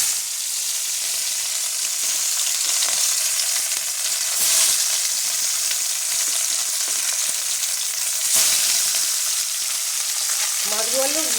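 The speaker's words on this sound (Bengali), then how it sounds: "তেলটা আমার খুব ভালো করে গরম হয়ে গেছে, এবার আমি মধ্যে এক একে মাছগুলো ছেড়ে দেবো।" Fish sizzling and frying in hot oil in a Bengali home kitchen, a steady loud crackling hiss throughout with occasional brief bursts, no talking.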